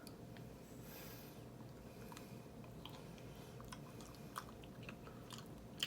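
A person eating homemade jjajang (black bean noodles), close soft chewing and biting over a steady low background hum, with a few faint crunchy clicks near the end.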